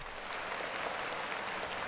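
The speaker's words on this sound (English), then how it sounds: "So clap it up for me." A church service audience claps together in a dense, continuous burst of applause that fills the room for a couple of seconds without a break.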